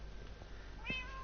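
A single short cat meow from the video game Minecraft, clear and fairly close over a low steady background hum.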